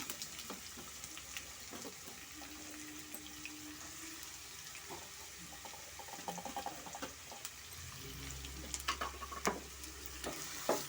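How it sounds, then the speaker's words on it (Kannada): Onions frying to golden in a pan for mushroom biryani, a faint steady sizzle with scattered soft stirring clicks growing busier toward the end, quiet and close. "ಈರುಳ್ಳಿ ಈ ಥರ ಗೋಲ್ಡನ್ ಕಲರ್ ನಾವು ಫ್ರೈ ಮಾಡ್ಕೊಬೇಕಾಗುತ್ತೆ"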